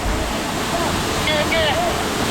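Dhangar Waterfall roars as a loud, unbroken rush of falling water that fills the whole clip, with faint voices barely rising above it.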